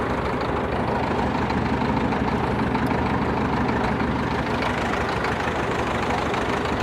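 An aging Cat 922B wheel loader sits idling as it warms up, its diesel engine giving a steady, low, rumbling drone that stays constant and close, with no voices.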